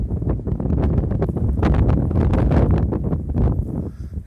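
Strong wind blows down from the mountains, a loud, steady roaring rush that buffets the microphone throughout with no pauses and no voices.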